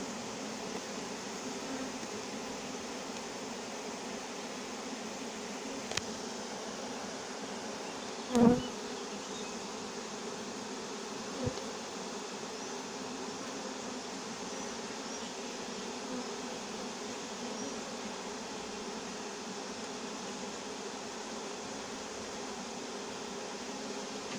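A swarm of honeybees being gathered into a cardboard box with smoke at Villabé hums in a dense, continuous buzz, steady and moderately loud throughout, broken only by a few faint knocks.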